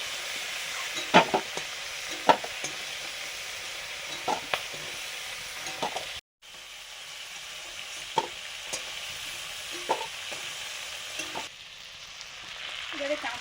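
Crabs fry in a pan, a continuous close sizzle broken by scraping stirring strokes at irregular intervals and one brief silent gap midway.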